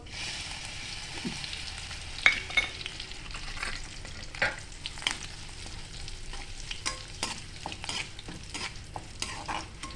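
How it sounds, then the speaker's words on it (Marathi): Curry leaves frying in hot oil for a thin poha chivda, a steady crackling sizzle with sharp pops and spatters scattered throughout, close and moderately loud with no talking. "आता कढीपत्ता तळायला टाकतो घेऊ."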